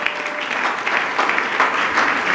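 A church congregation claps and cheers in a dense, lively burst, with loud surges of applause that rise and fall close by.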